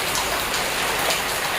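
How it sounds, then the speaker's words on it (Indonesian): Light rain in a rural afternoon setting makes a steady dense hiss of drops falling on surfaces, even and close with no other sounds. "kecil hujannya"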